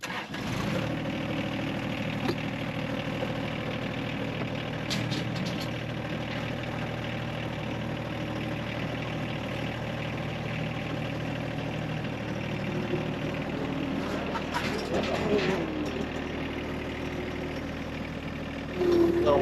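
A tractor engine runs at a steady idle close by, a continuous low rumble with a brief rise in revving near the end, heard on a farm while discing and grading ground.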